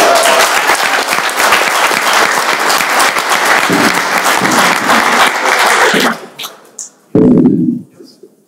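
A city council meeting audience breaks into loud, sustained applause honouring a high school principal, with dense clapping for about six seconds before it tapers off, then a brief further burst of claps and a voice.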